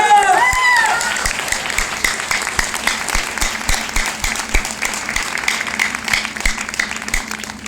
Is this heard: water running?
no